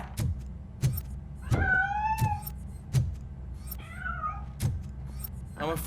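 A cat meowing in the Robocop: Rogue City video game, with two drawn-out, wavering meows standing out over a regular ticking pulse and low background rumble.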